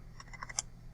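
Brief burst of typing on a computer keyboard, five or six quick, light key clicks in under a second, faint and close with no voices.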